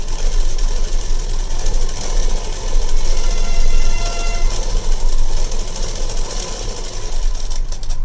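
A sewing machine runs steadily and loudly, stitching along the middle of lining fabric for a simple back-design blouse, with a continuous mechanical hum that lasts throughout.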